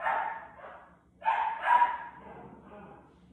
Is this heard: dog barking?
yes